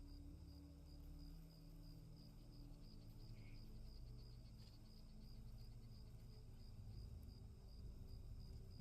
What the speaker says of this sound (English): crickets and various other animals can be heard down here